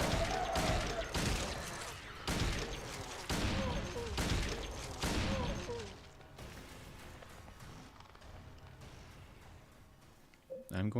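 Gunshots fired in the survival horror game Silent Hill 2, a run of sharp loud bursts repeating every second or so for about six seconds, then quieter mechanical rattling and ambience.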